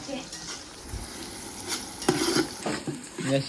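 Chicken biryani sizzling in a pot while a utensil stirs and scrapes, with a few louder scraping strokes near the end.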